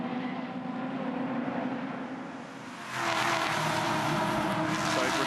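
V8 ute race cars roar around the Winton circuit in steady engine drone, and a louder, closer wave of engine noise swells in halfway through as the pack comes nearer.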